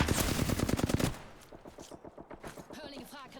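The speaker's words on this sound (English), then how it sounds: "Okay, I'm getting shot at." Rapid automatic gunfire in the game Apex Legends rattles loudly in a dense burst, then gives way to quieter scattered shots and footsteps while a player talks over it.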